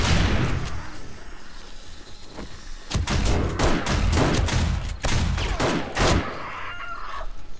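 Shotgun turret gunfire in the video game 7 Days to Die during a horde night: repeated loud blasts in irregular bursts over a dense, busy background of game noise.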